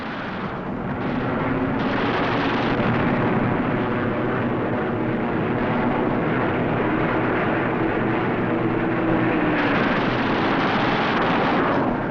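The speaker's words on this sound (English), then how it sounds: "armor-piercing incendiary 50 caliber ammunition makes a flash when it strikes, and how it strikes." Fifty-caliber armor-piercing incendiary machine gun fire from a WWII fighter plane on old archive film: loud, sustained bursts and aircraft roar mixed into a dense, muffled, band-limited rumble.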